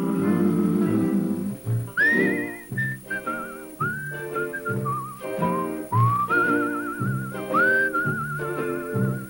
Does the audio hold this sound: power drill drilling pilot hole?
no